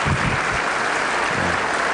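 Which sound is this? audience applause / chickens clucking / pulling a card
audience applause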